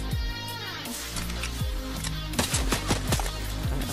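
Rapid gunfire in the Fortnite battle royale game, several sharp shots cracking in quick succession over a steady background of game music and ambience, growing denser toward the end.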